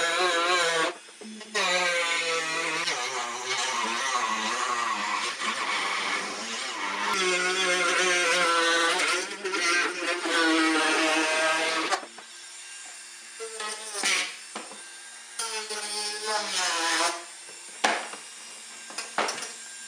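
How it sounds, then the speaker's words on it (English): A Dremel rotary tool cuts out the plastic battery compartment of a Power Wheels ride-on toy car, a loud, high whine that wavers in pitch as it bites, then drops into shorter intermittent bursts and pauses. "what we're doing here is cutting out the battery compartment with the Dremel tool"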